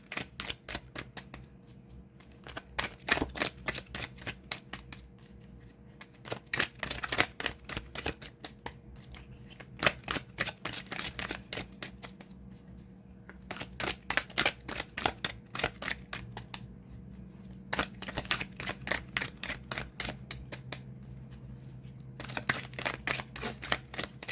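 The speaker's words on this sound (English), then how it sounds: "a few more good shuffles. Get these cards nice and mixed up for us" A deck of cards is riffled and shuffled several times, crisp fluttering bursts separated by short pauses, close up with no talking.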